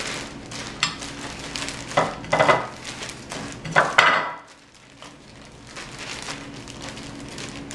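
Rustling and shaking of a sealed Ziploc bag holding pecan meal, flour, salt and pepper, with several bursts of dry crinkly plastic shuffling in the first half, then quieter kitchen background.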